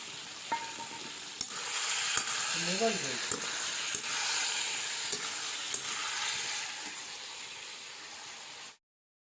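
Ridge gourd and green chillies sautéing in a pot over a wood-fired stove, a steady close sizzle with a few stirring knocks, a faint voice in the background, cutting off just before the end.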